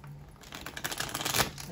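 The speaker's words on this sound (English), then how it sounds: "Shuffle." Tarot cards riffle and slide against each other in one short, close shuffle that builds slightly in loudness.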